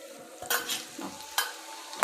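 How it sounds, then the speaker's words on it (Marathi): Whole spices tipped into hot butter and oil in a pan while making butter paneer masala, giving a soft sizzle with a few short, brighter stirring and scraping bursts spaced about a second apart, close and fairly quiet. "तर हे जे खडे मसाले आहेत हे टाकणार आहे"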